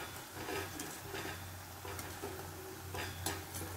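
Chakli (murukku) dough frying in hot oil over a low-to-medium flame, four or five pieces at a time: a steady close sizzle with soft bubbling and a few faint clinks, no voices.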